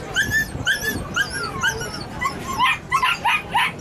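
A rescue dog whimpers and yips in a steady run of high, wavering cries, close and fairly loud, with faint background noise from the animal rescue transport event.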